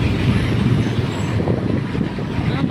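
A large truck rumbling past in heavy Saturday traffic on a Pasig City road, a steady loud low engine drone with constant road noise and no clear pauses.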